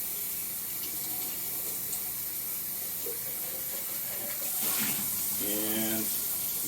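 Sprouts being rinsed in a jar under running tap water: a continuous close hiss of flowing water that swells toward the end, with a brief tonal whine and no clear speech.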